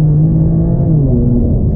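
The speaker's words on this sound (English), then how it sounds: "because you can hear the engine," A 2018 BMW M4 CS inline-six engine hums steadily from inside the cabin, a loud, continuous low drone with a rising and falling tone as it revs gently, no voices over it.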